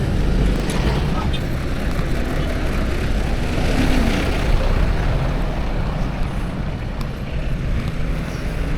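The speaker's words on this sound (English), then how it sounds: "A lot of traffic out right now." Street traffic in a Philippine province, a dense, steady roar of engines and road noise with wind buffeting the microphone, heard up close and continuous throughout.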